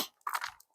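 Footsteps crunch over frosty, white grass at a caravan park on a chilly March morning, with a couple of crisp, close crunches in a brief burst.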